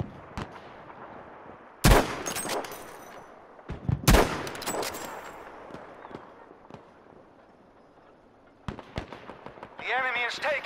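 Gunfire in the Battlefield V open beta: a few sharp, loud shots and bursts separated by quieter stretches of distant battlefield rumble, with a louder crackle of activity near the end.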